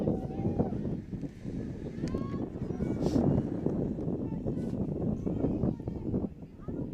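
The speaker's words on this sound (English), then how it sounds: "Still getting wind gusts." Wind gusts buffet the microphone at an outdoor girls' high school softball game, a loud, low rumbling roar that surges and eases almost throughout.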